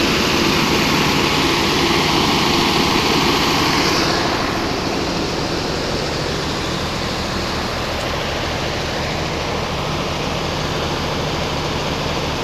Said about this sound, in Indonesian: Ini untuk gensetnya ya. Genset versi hajatan.